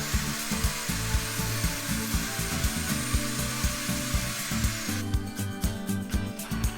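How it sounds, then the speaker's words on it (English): A power saw trims the tips off an oak dowel for footstool legs, with a steady run of rhythmic cutting pulses that change to a brighter, harsher tone near the end, loud and close with no talk. "here I'm just cutting off the tips of the dowel so that they'll fit inside of the legs"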